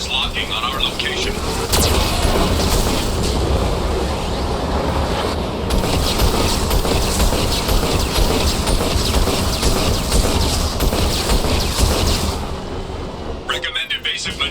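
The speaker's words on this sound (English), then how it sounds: "Warning, Geth cannon is locking on our location." Heavy Geth cannon fire pounds during a Mass Effect 2 battle scene, a loud, sustained barrage of booming blasts and rumbling that runs nearly the whole stretch, with a synthetic warning voice speaking over it.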